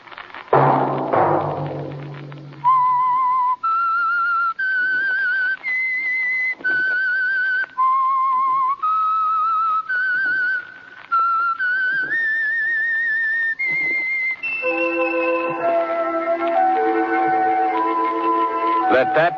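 A person whistles a clear, melodic tune in steady sustained notes, loud and close, ending with a brief swell of orchestral music.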